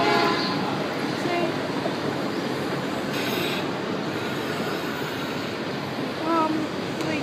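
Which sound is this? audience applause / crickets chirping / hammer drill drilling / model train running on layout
model train running on layout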